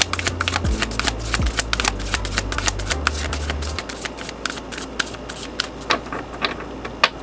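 Tarot cards rustle and snap together close by as a handful is slid back into the deck, a dense run of crisp clicks that thins out into scattered taps, with faint hum underneath and no speech.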